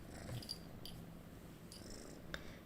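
A five-month-old kitten purrs softly and steadily up close, a low continuous rumble with a few faint clicks and rustles over it.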